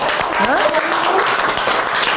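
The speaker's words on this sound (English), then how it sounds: "Let's clap for them." A group claps together at an outdoor conservation agriculture training session, a dense patter of hands under overlapping voices for about two seconds.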